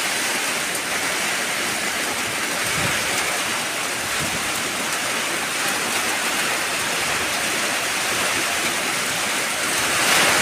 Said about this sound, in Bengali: পুকুরের ভিতরে বৃষ্টি